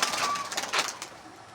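Pigeons kept overhead, including a breeding bird, give a brief soft cooing call close by, fading out within a second or two.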